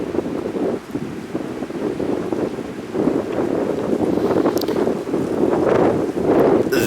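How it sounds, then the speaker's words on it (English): Strong wind roaring steadily, buffeting the microphone with a broad rushing noise that swells and gusts throughout, with no voices. "This wind, yes, it's been windy, but this amount of it has come out of nowhere."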